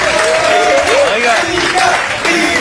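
An audience at a live comedy show applauds and cheers throughout, with performers talking loudly over the clapping.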